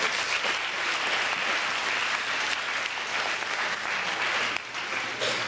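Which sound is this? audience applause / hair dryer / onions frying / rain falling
audience applause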